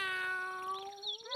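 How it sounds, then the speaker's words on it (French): A single drawn-out cat meow, clear and close, rising then falling, from a children's story with no talking over it. "Aimeriez-vous un peu de poisson, Madame Chat?"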